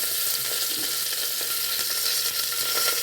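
Asafoetida dropped into hot oil gives a steady, bright sizzle that holds evenly throughout, close and moderately loud with no talking.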